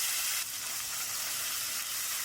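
Steady, fine sizzling of raisins frying in oil and butter over low heat, a continuous bright crackle with no talking.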